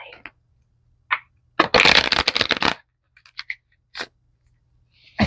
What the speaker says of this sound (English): I do love the cardstock and the way it shuffles